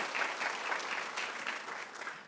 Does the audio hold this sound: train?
no